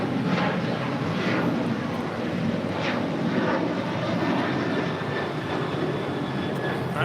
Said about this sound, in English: 737-900 taking off to Los Cabos